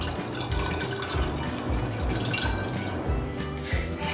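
Liquid poured into a pot while cooking sweet pongal, a continuous splashing trickle with drips close by, alone without talk.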